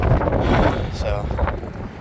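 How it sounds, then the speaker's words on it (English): Strong 90-mile-an-hour wind gusts roar and buffet loudly around a 2000 Ford F150 at the roadside, a continuous rushing, blustery noise with a faint voice underneath. "yay for 90-mile-an-hour winds"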